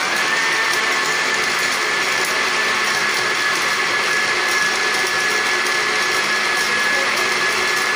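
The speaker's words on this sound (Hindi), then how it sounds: "अब हम इसको और 5 मिनट करेंगे ग्राइंड" A mixer grinder whirs steadily as it grinds falsa sharbat with sugar and black salt, a loud, continuous high-pitched motor drone with no pauses or change in pitch.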